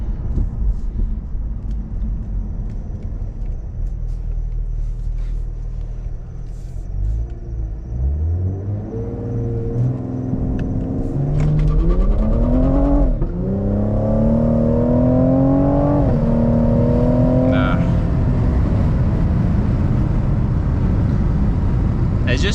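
Cadillac CT5-V sedan accelerating hard at full throttle on a road at night, engine note climbing through several gears with clear upshift breaks, loud and close from inside the cabin, building steadily in pitch.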